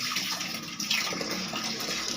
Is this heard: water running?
yes